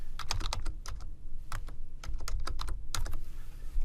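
Typing on a computer keyboard while entering scan area values in imaging software, a quick, irregular run of close, crisp key clicks with no talking.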